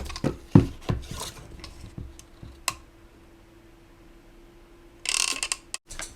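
Sharp mechanical clicks and crunches of a hole punch going through scrap paper, a few distinct punches early on, then a brief burst of rustling near the end, close and fairly quiet.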